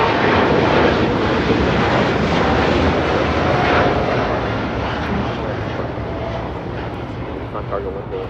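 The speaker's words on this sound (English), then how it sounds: "This is Nippon Cargo Airlines 101 taking off to Tokyo Narita on a 747-8 freighter." A Nippon Cargo Airlines Boeing 747-8 freighter taking off from LAX, a loud, broad continuous engine roar that slowly fades as it climbs away, with faint voices underneath.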